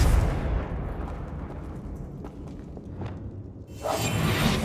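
A Confringo fire blast spell cast in the Hogwarts Legacy game, a loud rushing burst that fades into rumbling noise, then a second bright blast near the end.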